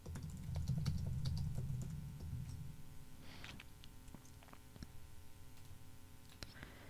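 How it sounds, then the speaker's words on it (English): Someone types text on a computer keyboard, producing quick, light, irregular key clicks at close range over a low, steady background hum. "Simply start typing your text."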